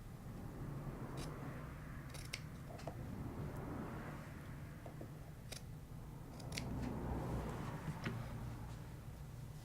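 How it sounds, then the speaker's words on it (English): Scissors make small angled cuts in upholstery fabric around the corners of a curved captain's chair seat top cover, giving faint, crisp snips at irregular intervals over a quiet background hiss. "to clear it around the two corners here, do your little angled cuts"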